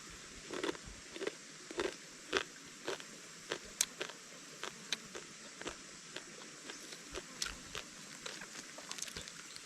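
Someone eats food outdoors beside a stream in a forest, a string of close, quiet crunching bites and chewing clicks at an irregular pace over a faint steady water hiss, with no talking.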